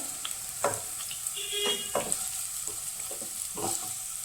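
Rose apple pieces are stirred in hot oil, giving a steady close sizzle broken by several scraping spatula strokes and soft clinks. No one speaks.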